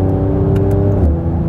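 A sports car's exhaust drones steadily in sport mode while gears are shifted with the paddles, loud and close, with a slight change in pitch near the end.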